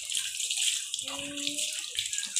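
Mixed wash-out solution pours and splashes over a goat in a backyard, a steady watery rush with a short tonal gurgle partway through, while a voice murmurs faintly beneath.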